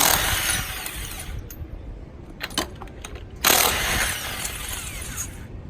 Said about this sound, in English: We're using the power gun. Take out the wheel.